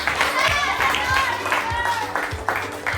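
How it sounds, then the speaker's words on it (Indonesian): Fifth-grade schoolchildren clapping in a classroom, a group clapping together in rhythmic bursts, fairly close, with voices and chatter mixed in among the claps. "Tepuk tangan dulu untuk kalian semua."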